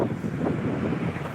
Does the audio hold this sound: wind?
yes